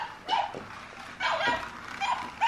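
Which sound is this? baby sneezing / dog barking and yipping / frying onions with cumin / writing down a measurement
dog barking and yipping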